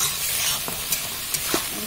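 Spices for a green jackfruit curry sizzle steadily in a pan, with a few light scrapes of stirring breaking through the constant hiss.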